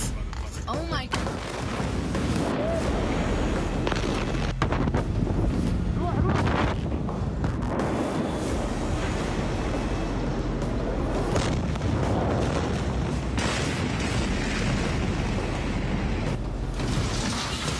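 A 2,500-ton powder keg of stored material exploding inside a warehouse, rendered as a continuous roaring blast with repeated heavy booms and crackling debris, loud throughout, with a narrating voice over it.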